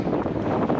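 A strong headwind buffets the microphone while riding a loaded bike on a rolling asphalt road, a brief, loud, steady rush of wind noise.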